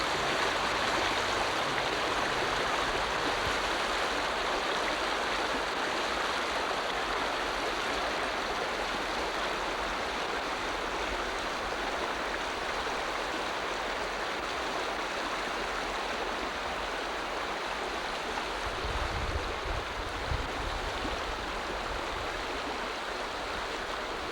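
Steady creek water flowing past a washed-out bridge site along a trapline road, a constant broadband rush that stays close and even throughout with no voices.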